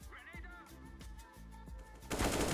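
Counter-Strike gunfire crackles in a short burst near the end, after a few seconds of game sounds and a faint background voice.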